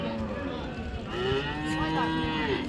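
A Friesian cow at the Raniganj cattle market in Dinajpur gives a long, loud, close moo that bends in pitch, with the hum of the busy market behind it.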